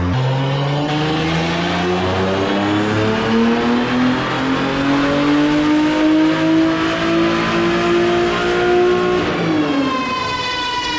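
A loud drift race car engine running on alcohol fuel revs steadily upward on a dyno for several seconds, pitch climbing, then drops off sharply as the throttle closes.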